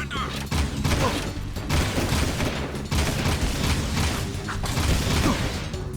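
Rapid gunfire and mechanical clatter from the Jak II video game as enemies shoot the player, a busy dense burst of shots filling the whole stretch with a voice faintly mixed in.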